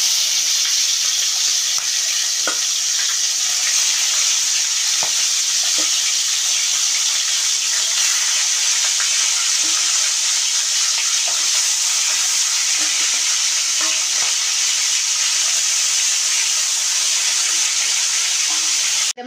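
Boal fish pieces fry in hot oil, a loud, dense, continuous spattering sizzle held up close for the whole stretch, with a few faint knocks underneath and no talk.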